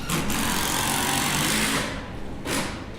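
A power driver whines steadily as it sinks a 4.5-inch screw into a cedar 4x4, a loud continuous buzz that drops off briefly, then a second short burst.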